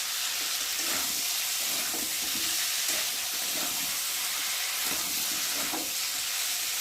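Pointed gourd sautéing with spices in an oiled pan, a steady close sizzle and hiss running throughout with faint stirring scrapes, no voices.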